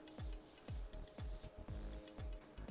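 Rhythmic rubbing strokes, about five of them, as flour is smoothed by hand over a loaf of bread dough, each a close, dry brushing swish with a dull thump at its start.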